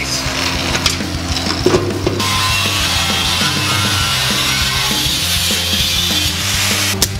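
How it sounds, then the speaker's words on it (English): A drill bores drain holes through the bottom of a steel trailer, a loud continuous grinding whine with scraping and rattling that holds steady for several seconds. "we're going to drill several drain holes on the bottom side of this"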